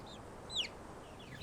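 A chicken gives a single sharp, high cluck close by in a backyard chicken coop, standing out briefly from a quiet background with a few fainter bird chirps around it.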